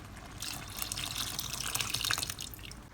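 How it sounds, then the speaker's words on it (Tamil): Water is poured into a pressure cooker to rinse it while making a mixed vegetable sambar, a steady splashing, running flow that carries on close up for the whole stretch, with no talking. "அதே ப்ரெஷர் குக்கர்லேயே டூ ஃபிஃப்டி எம்எல் அளவு தண்ணி சேர்த்து குக்கரை அலசி அந்த தண்ணி பெதோடு சேர்த்துக்கிறேன்"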